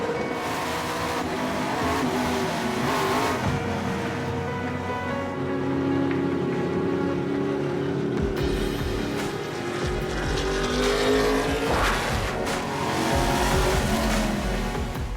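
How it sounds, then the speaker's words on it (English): A race-prepared NASCAR race car, its engine roaring loud and continuous with rising and falling revs through shifts, heard steadily and fairly near with no voices. "getting into a race-prepared NASCAR is one of those moments"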